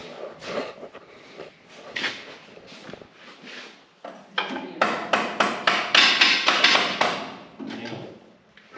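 Repeated small-hammer blows on metal while working on a twin-turbo 6.0 engine in a 1965 GMC, scattered at first and then a fast run of sharp, ringing strikes, fairly close.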